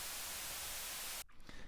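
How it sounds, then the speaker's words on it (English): White noise from a synth operator, used as a music production effect, hisses steadily and loudly for just over a second, then cuts off abruptly, leaving only a faint low residue. "This white noise, bro, I use it a lot as an effect in a lot of my tracks."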